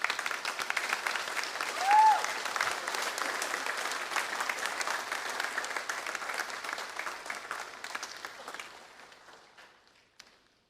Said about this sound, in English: Can you stand and give them, your parents and friends included, a big round of applause, please?